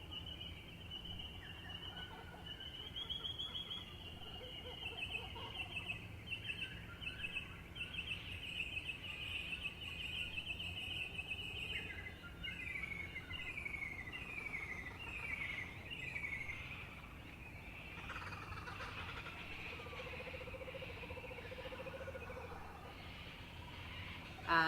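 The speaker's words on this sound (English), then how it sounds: "I wanted to have good recordings of, in particular, the dawn chorus of birds here." Dawn chorus of birds recorded outdoors in Australia: layered whistles, trills and repeated calls from several birds at moderate distance, steady throughout with a gobbling fowl-like call among them and no talking.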